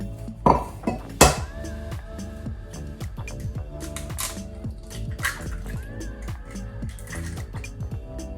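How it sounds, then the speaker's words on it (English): Three eggs cracked into a mixing jug, sharp clinking taps at the start, then softer glassy clinks and faint kitchen handling noises, close and quiet with no talking. "we're going to crack 3 eggs into this, and then we're going to add 1 extra egg yolk as well"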